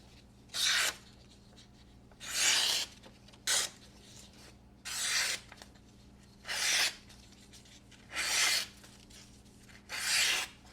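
A Spyderco Paysan folding knife with a saber grind and thick blade stock slicing through material: seven separate bursts of broad, rasping strokes spaced about a second apart, close and fairly loud, with no talking.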